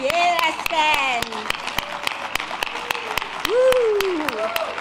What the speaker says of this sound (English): Let us stand and give ourselves a round of applause.